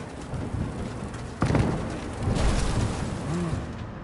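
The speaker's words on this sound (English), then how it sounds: "That is one hell of a storm!" A thunderstorm in Cyberpunk 2077: a constant hiss of heavy rain with a deep roll of thunder that swells midway and rumbles on, loud and close, with no talking.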